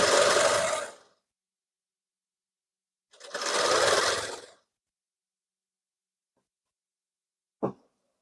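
A sewing machine stitches a blouse in two short close bursts of rapid whirring needle chatter separated by silence, followed by a single sharp click near the end.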